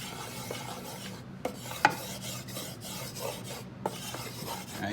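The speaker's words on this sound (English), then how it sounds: "I'm just gonna stir this grease up right here" A utensil stirs hot grease in a Power XL cooker before any meat goes in, making a steady close rasping scrape with a few sharp knocks against the pot. No one speaks.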